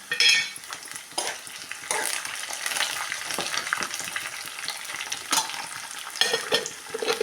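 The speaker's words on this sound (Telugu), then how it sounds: "ఇప్పుడు కొంచెం కరివేపాకు వేసుకుంటున్నాం" Curry leaves dropped into hot oil give a steady crackling sizzle, close and moderately loud, with scattered spoon scrapes and small pops throughout and no voices.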